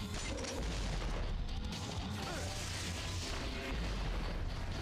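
Repeated grenade launcher explosions in the Devil May Cry action game, a dense continuous barrage of booms and crashing blasts that stays loud and unbroken throughout.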